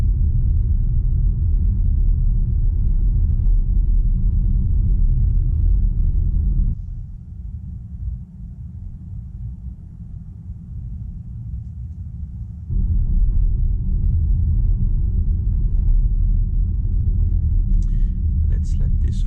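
Road traffic rumbles steadily from inside a moving Skoda Enyaq electric car, a deep continuous low drone that dips quieter for several seconds mid-way before swelling back up.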